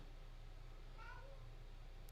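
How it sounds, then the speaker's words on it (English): A house cat lets out a single short meow, faint against a low background hum, with no voices at the same moment. "Cat, I just fed you."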